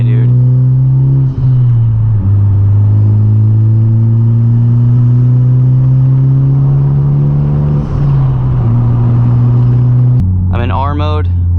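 Honda Civic Type R engine pulling hard in R mode, a loud steady drone that climbs in pitch through the gears with brief dips at the shifts, heard from inside the car.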